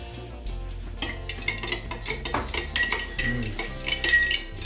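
Spoon clinking and scraping against a bowl while cookie dough with vanilla is stirred for organic chocolate chip cookies, a steady run of close, clattery taps after a quiet first second.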